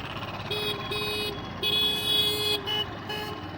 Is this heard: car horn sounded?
yes